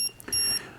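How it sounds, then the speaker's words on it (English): Shrill electronic beeps from a Contour Roam 2 HD action camera's error buzzer, a short tone followed by a longer sustained one, close and piercing. "it has a buzzer, so if there's any errors, you're going to hear an audible alarm"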